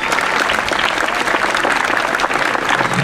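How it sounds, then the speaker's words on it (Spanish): An audience at an inauguration ceremony bursts into dense, sustained applause, many hands clapping steadily at close range without pause, loud and even throughout. "Regalémosle un fuerte aplauso."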